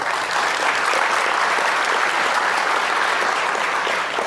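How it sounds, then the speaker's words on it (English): Convention audience at a medical industry gathering in Las Vegas applauding steadily, a dense, even wash of many hands clapping that holds at full strength for several seconds without any talk. "Give me a round of applause if you think that's correct."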